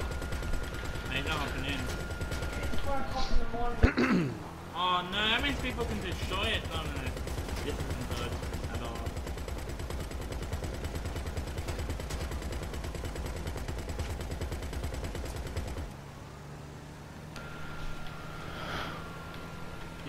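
Gunfire rings out in GTA 5 Online during a casino heist, with rapid shots and bursts clustered early and continuing under busy game noise while several players talk over it throughout.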